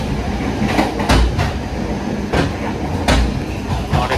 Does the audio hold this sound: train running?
yes